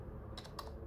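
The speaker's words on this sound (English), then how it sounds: "On this keyboard, the sound is very consistent." Typing on the SwiftKey on-screen keyboard of a Google Pixel 4a, giving two soft, short tap clicks close by in a quiet room.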